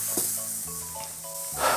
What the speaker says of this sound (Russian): Жарим до половины готовности.